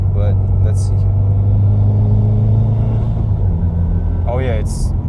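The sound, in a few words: Subaru WRX car driving and shifting gears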